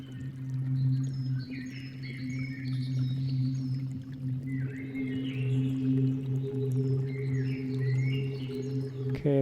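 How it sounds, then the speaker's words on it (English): A Bird pad synth preset in Ableton plays a steady, warm, low sustained drone with a mystical character, while airy chirping, bird-like gliding tones drift in and out above it, ending with a brief sharp click. "let's find a nice pad that could go with it first. Maybe like a synth pad."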